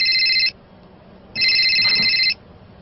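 An old-style telephone bell rings in two loud bursts, a half-second ring followed after a pause by a longer one-second ring, with no voices.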